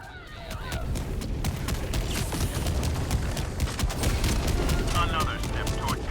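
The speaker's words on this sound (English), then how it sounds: "Firing orbital barrage" Orbital barrage strike in a sci-fi shooter video game against bugs: a dense, continuous rumble of rapid booming impacts and crackling blasts, loud and sustained throughout, with voices faintly under it.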